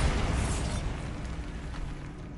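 Bombardment explosions roll through a Star Wars video game, a loud continuous deep rumble of blasts with crackling bursts on top, fading slightly over the short stretch.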